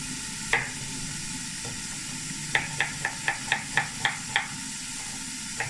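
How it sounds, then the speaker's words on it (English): A knife chops onions on a board in a quick run of about eight soft, evenly spaced strokes, faint and close, with a low kitchen hum and no voices. "now Nadia's gonna chop the onions"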